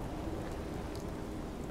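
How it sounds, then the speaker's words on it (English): Rain in the video game Fallout 4, a steady, dense hiss of falling drops, faint and continuous. "It's starting to rain, like always."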